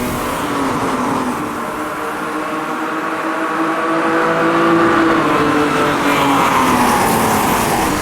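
Race car engine from the 1983 Bathurst race in Automobilista 2, a steady loud drone with rising and falling pitch as the car changes gear, close and continuous, no talk.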